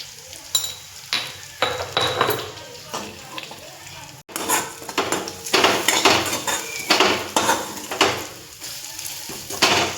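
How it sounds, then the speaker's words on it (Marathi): Homemade spices, with home-ground chilli powder, are crushed by hand: repeated dull thuds and scraping knocks in uneven bursts, close and fairly loud, with a brief pause partway through. "आता हे अशा पद्धतीनं मी चेचून घेतले"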